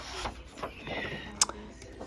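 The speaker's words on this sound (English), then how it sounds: "I'm just going on each side and sanding, getting out some of these bumps." Wood is hand-sanded in several short back-and-forth strokes, a soft rasping scrape repeated at an uneven rhythm, close and fairly quiet, with a brief sharp tap partway through.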